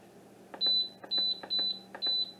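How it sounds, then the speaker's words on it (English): A kitchen timer being set for pressure canning gives four short, sharp electronic beeps, each one preceded by a soft button click, close and clear in a quiet room. "I set my timer for 35 minutes."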